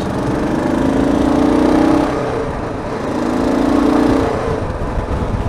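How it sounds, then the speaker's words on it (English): A loud truck passes close by on a road near a rider reviewing a KLR, its engine drone swelling twice and fading in a steady, heavy rumble with no talk over it. "Sorry about that loud truck"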